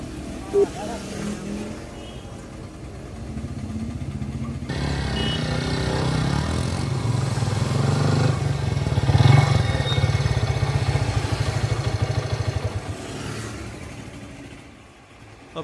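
A motorcycle engine idles and then slowly revs up into a loud, steady drone before easing off near the end, heard close by with a voice speaking over it at the start.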